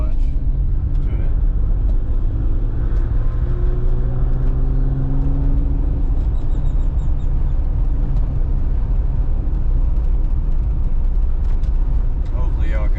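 A 1988 Pontiac Fiero with its factory 2.8 liter V6 runs close by, a low steady rumble with a brief rev that climbs and settles early on, then a continuous engine drone.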